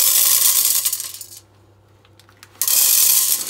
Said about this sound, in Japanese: 柄のついた蓋のある深い鍋にコーンを一並べにします。